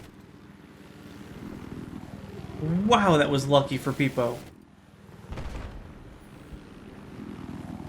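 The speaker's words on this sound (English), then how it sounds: "How is that helicopter alive?" Helicopter rotor and engine drone in a Battlefield 4 Conquest match, a steady whir under excited commentary with a burst of gunfire and explosions in the middle.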